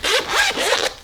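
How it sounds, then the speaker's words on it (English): Zipper on a small Dagne Dover Vida tote pouch being unzipped, a close, loud, rasping pull in two or three quick rhythmic strokes lasting about a second. "when you unzip this pouch"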